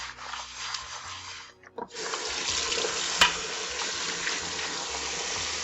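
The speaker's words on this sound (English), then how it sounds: "we are just going to rinse all these together" Tap water runs steadily into a kitchen sink as pans are rinsed, a continuous close splashing hiss with a brief pause and a sharp metallic clink.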